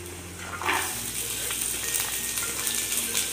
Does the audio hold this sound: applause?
no